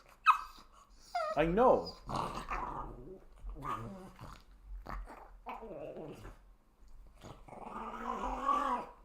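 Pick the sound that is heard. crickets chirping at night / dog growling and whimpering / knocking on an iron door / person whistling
dog growling and whimpering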